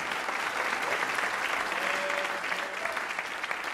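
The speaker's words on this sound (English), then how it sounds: "Give it up for Jeff Maurer" A comedy event audience applauds a comedian taking the stage, dense steady clapping from a crowd that holds for several seconds and thins slightly near the end.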